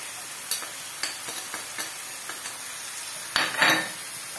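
Turkey liver and onions stirred in a pan with a soft sizzle beneath, a spoon scraping and tapping in a string of quick strokes, with a louder clatter near the end.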